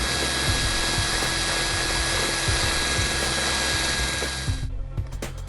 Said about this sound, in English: Using an 8mm drill bit, drill out the marked area.